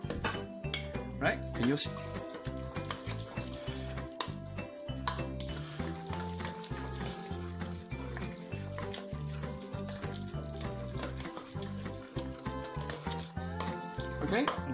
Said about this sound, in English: you want to mix everything together nicely